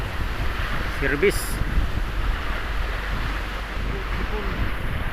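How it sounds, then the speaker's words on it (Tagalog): Strong waves and wind batter a small outrigger boat off the west Philippines, a steady broadband roar of surf and gusting wind across the microphone, with a brief voice partway through. "malakas yung alon"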